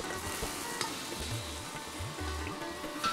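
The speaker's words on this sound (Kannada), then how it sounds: "ಈ ಥರ ಅಂಟ್ತಾ ಇದ್ರೆ ಬೆಳ್ಳುಳ್ಳಿ ಫ್ರೈ ಆಗಿದೆ ಅಂತ" Chopped garlic fries in hot oil in a pan, giving a soft, steady sizzle with occasional stirring scrapes and low thumps, close and moderately quiet, with no talking.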